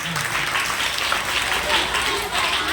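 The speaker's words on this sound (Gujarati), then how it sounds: "હા હવે તાળી થઈ જાય એમના માટે એક વખત" Steady applause from an audience at a stall-owner event, dense clapping filling the short stretch at an even, fairly loud level with crowd murmur mixed in.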